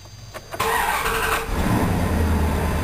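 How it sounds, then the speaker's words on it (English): Truck engine cranking briefly, then catching and settling into a loud, steady idle close by. "Now I'm going to fire up the truck."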